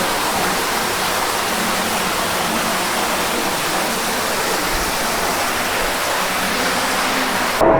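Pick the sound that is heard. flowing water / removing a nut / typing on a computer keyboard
flowing water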